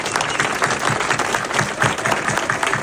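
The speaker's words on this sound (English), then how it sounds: "Let's give them a big round of applause." Steady audience applause honoring public safety officials, including police officers, fills the room as many hands clap densely and continuously at a moderate distance with no voices over it.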